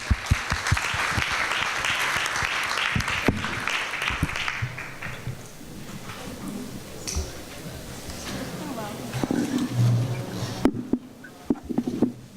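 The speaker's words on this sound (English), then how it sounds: "I think we should give a round of applause to our terrific panel." A conference audience applauds a panel at the 2014 Internet Governance Forum, a strong burst of clapping for about four seconds that tapers off into scattered claps, with someone speaking as it fades.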